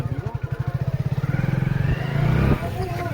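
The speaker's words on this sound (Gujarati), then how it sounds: "આપણે ભાગે સ્પ્લેન્ડર લઈને ઓફ રોડિંગ કરવા" A Hero Splendor motorcycle engine chugs with a rapid pulsing beat off-road in a farm field, then revs higher as it pulls away, close and fairly loud.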